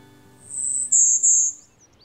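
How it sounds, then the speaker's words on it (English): A golden-winged warbler sings a high, buzzy song, one drawn-out buzz followed by shorter buzzy notes, clear against a quiet background. "We're occasionally hearing a golden-winged warbler singing."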